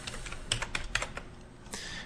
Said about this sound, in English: So just start typing some random values.